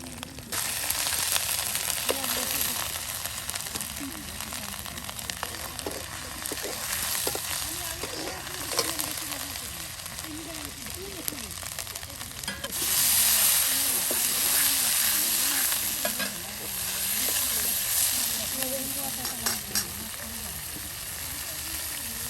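Eggs sizzle steadily in a hot pan while a spoon stirs and scrapes through them, a continuous bright frying hiss with intermittent scraping, with someone talking faintly over the cooking.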